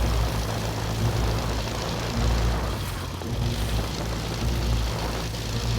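A light propeller training aircraft takes off, its engine roaring in a loud, steady drone heard from inside the cabin, with rushing wind noise and slight swells throughout.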